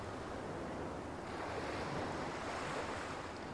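Steady surf from ocean waves in the video game Yakuza 3, a constant broad wash of breaking water with a gentle rise in the middle, no speech over it.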